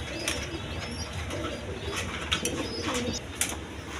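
A pair of caged pigeons with a chick coo in low, repeated murmurs, close and steady, with a few sharper chirps and light wing rustles scattered through.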